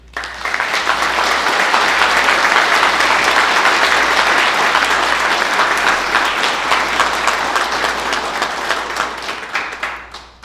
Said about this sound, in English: let's do a round of applause for the cadre